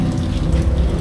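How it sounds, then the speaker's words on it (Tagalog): Steady rain drums on the roof of a tuktuk, a dense continuous patter with low rumbling weight, close and fairly loud, with no voices. "Pumapatak na naman ang ulan sa bubong ng tuktok."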